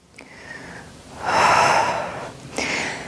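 A deep, drawn-out inhale and exhale through the nose during a Pilates flow, loud and close, rising to a strong breathy rush at its peak, with a sharp intake at the start and another near the end.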